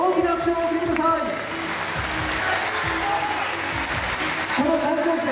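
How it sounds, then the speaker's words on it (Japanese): At a national high school bodybuilding championship in Japan, the crowd applauds the winner with steady, moderately loud clapping while an announcer's voice speaks over it in places. "大きな拍手をお送りください"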